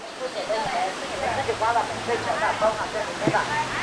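A waterfall in a famous Chinese tourist town roars with a constant rushing wash of water while people talk nearby over the noise.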